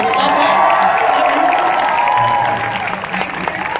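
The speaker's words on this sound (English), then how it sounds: "Can we give them a big round of applause?" Fans at a surprise Avengers event with Benedict Cumberbatch, Karen Gillan and Joe Russo burst into loud, sustained applause mixed with cheering and whoops, the crowd noise dense and steady before easing slightly toward the end.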